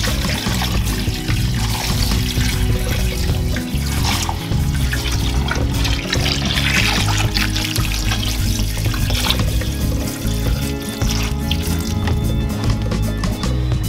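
Water pours steadily into a pot of turkey bones for bone broth, a continuous splashing, trickling stream that stays close and even throughout with no talk.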